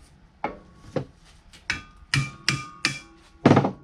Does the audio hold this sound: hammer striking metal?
yes